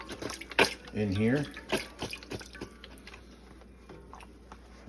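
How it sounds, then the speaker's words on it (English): Water splashes and trickles into containers holding smoked oxtail for braising, with a few clattering knocks at the start. Someone briefly talks over it before the sound fades. "Gonna do 2 or 3 of these containers and add some water."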